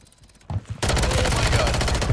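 A loud, sustained burst of rapid gunfire from Warzone erupts after a brief quieter moment, close and dense, with a voice faintly present underneath.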